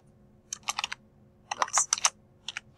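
Bursts of computer keyboard typing in a quiet room, two quick clusters of keystrokes with a short pause between and a few final taps, close and clear with no talking.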